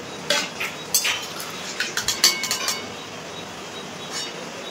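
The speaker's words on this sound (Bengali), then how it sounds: "এই যে তখন আমি এই চিপসগুলো তেল ছেঁকে কিন্তু তুলে নেব।" Metal utensil clinks and scrapes against a pan as fried raw banana chips are lifted and drained from hot oil, a scattered series of sharp taps clustered mid-clip over a faint background.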